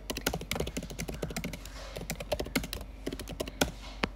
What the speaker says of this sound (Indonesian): ASMR keyboard.